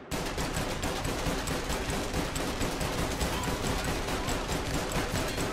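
Rapid automatic-style gunfire from an invisible revolver in the video game Mafia, a dense unbroken stream of loud shots rattling like a Tommy gun for several seconds.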